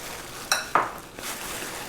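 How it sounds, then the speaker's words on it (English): A spoon scrapes and clinks against a bowl while stirring a white pepper spice rub for smoked pulled pork, two sharp close taps followed by a soft grainy scrape. "I'm going to keep stirring this up"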